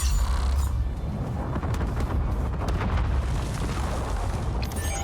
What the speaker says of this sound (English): They're all getting, like, exploded.